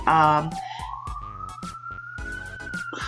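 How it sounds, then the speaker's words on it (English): A wailing police siren sweeps steadily upward as it passes, loud and close, with a brief burst of talk at the start. "okay, let the sirens go by."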